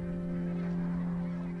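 Geese honk faintly over a steady low hum, a thin and distant call from migrating birds returning south from Svalbard in the Arctic.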